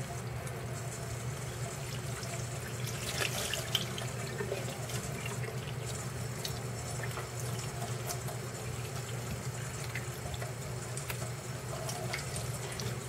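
A steady stream of tap water runs into a sink while tie-dye fabric is rinsed, a continuous close hiss and gurgle with faint splashes and no voices.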